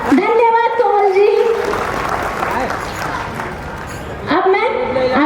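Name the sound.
applause for a performer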